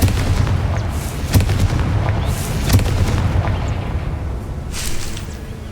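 Explosive blasts from the Confringo fire spell in the video game Hogwarts Legacy, several sharp booms in a row at close range with rumbling decay between, then a softer burst near the end.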